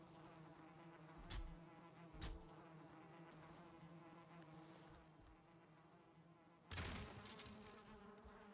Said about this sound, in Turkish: Aha, arı kovanı buldum.